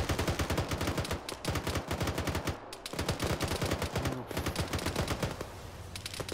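A .50 caliber machine gun fires long, rapid, loud bursts in Arma 3, the heavy rhythmic reports running nearly continuously with only short pauses between strings.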